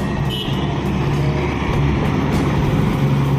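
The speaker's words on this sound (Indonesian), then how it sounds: "ini ada truk pembawa alat berat juga" Heavy road traffic rumbles steadily on a congested highway in Aceh, where a truck carrying heavy equipment passes close by. A deep, continuous engine drone fills the road with no voices.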